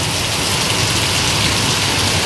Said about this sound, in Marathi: देगलूरमध्ये पाऊस सुरू झालेला आहे